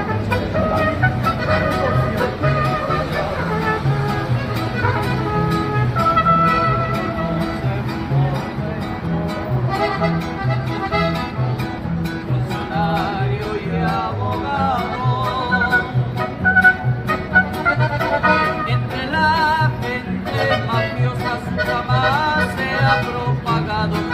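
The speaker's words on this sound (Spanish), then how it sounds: "llegaron unos mariachis a cantarle nada más y nada menos que un narcocorrido." Mariachi band playing a narcocorrido, with harmonic melody lines over a steady rhythmic bass pattern, continuous and fairly loud throughout.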